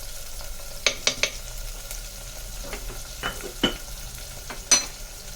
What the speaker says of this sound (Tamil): இப்போ இந்த எண்ணெயில் ஃப்ரை ஆகணும். நல்லா ஃப்ரை ஆகுது பாருங்க.